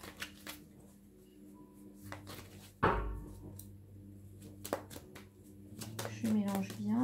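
Tarot cards shuffled by hand in a series of soft riffling and slapping bursts, with one sharper snap midway, under quiet background hum and a brief voice near the end.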